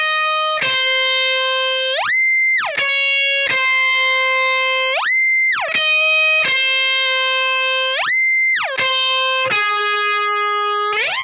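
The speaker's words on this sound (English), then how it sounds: "we'll add a whammy effect on there. The whammy effect lets you change the pitch." Electric guitar riff run through a whammy pitch-shift pedal set to two octaves, sustained distorted notes repeatedly sweeping up and back down in pitch under foot control, loud and steady with no talking.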